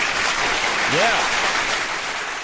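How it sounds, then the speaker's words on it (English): A round of applause for Pastor Mill during a late-night chat, a steady wash of clapping throughout with a brief voice over it. "Big round of applause, Pastor Mill!"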